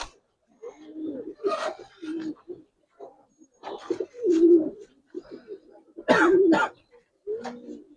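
Giribaz pigeons, including the jira-throated males, coo in short, throaty bursts at close range, several separate calls spaced irregularly with quiet gaps between them.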